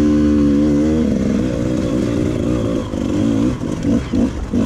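An enduro dirt bike runs on a hard enduro prologue track, its engine holding a steady, close, buzzing drone with a wavering pitch and a few throttle changes toward the end.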